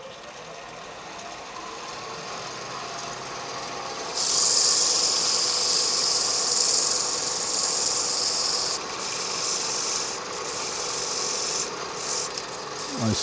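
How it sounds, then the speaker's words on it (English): Sandpaper of 320 grit rubbing over a small wooden pendant, a continuous soft rasping hiss that swells louder midway through and then eases into steadier strokes, close and alone. "Okay, let's do a little bit of sanding."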